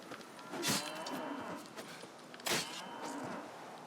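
Cows moo in the video game The Witcher 3, two loud drawn-out lows spaced a couple of seconds apart over a faint background bed.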